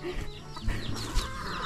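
A chicken that got caught or pinned clucks in short, uneven bursts, fairly close, with some scratchy background noise and no talking.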